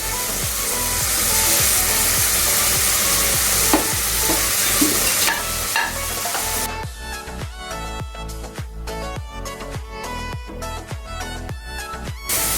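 Green cardamoms, cloves and watermelon seeds fry in a karai, first a loud steady sizzle, then a rhythmic series of scraping stirs with the spatula against the pan.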